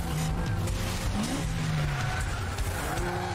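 Tires squeal through a four-wheel drift in Initial D, a sustained high whine under a steady engine drone, continuous and loud across the whole stretch.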